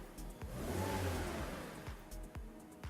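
A Toyota Calya with a 1200cc 3NR engine runs with a smooth mid-pitched hum that swells briefly as it revs, then settles back to a steady idle, heard close with no talk.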